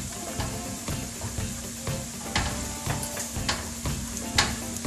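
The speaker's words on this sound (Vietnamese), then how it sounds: "Mình cho vào trong cà chua một chút xíu dầu hạt điều để cho cái phần sốt của mình có màu đẹp hơn" Annatto oil goes into chopped tomatoes in a hot pan for a pork meatball tomato sauce, giving a steady loud sizzle with scattered sharp crackles and utensil scrapes throughout.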